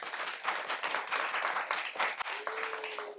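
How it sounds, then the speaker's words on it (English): Audience applause at a poetry slam in a public library, steady, moderately loud clapping from a seated crowd lasting a few seconds, with a faint tone near the end. "So Mad Mule applause."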